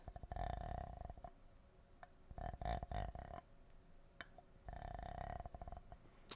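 A deep, raspy croaking rasp from a scraped water-filled ASMR trigger, in a few long drawn-out strokes separated by brief clicks and pauses, up close.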